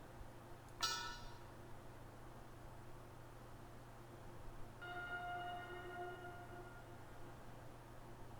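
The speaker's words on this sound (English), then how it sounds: "Was that the church bell?" A single bell strike rings out in the Ether One game, followed a few seconds later by a sustained ringing bell tone, both faint over a steady low background hum.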